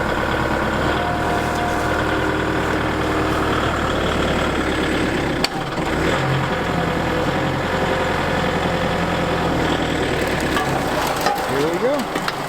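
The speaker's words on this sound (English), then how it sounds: "Letting the tractor warm up a little bit." A tractor engine idling while it warms up, a loud, steady low rumble with a constant vibrating hum and one brief knock partway through.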